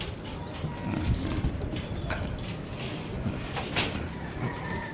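Racing pigeons coo steadily in a loft, young birds making a low continuous murmur of overlapping calls with occasional wing flutters and brief higher chirps throughout.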